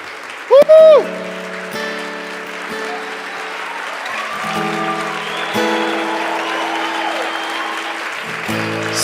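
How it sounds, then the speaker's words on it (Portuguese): A church congregation at a worship conference breaks into sustained applause, steady clapping from a crowd that carries under music and voices throughout, with a brief loud burst near the start. "Vamos abençoar Jesus com um aplauso."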